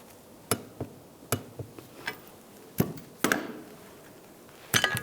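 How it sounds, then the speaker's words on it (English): A torque wrench tightens the nut on a 2013-2016 Dodge Dart rear shock absorber to 22 foot-pounds, making a series of sharp, separate metallic clicks and ticks at irregular intervals, near and distinct, with no talk. "And we'll torque that."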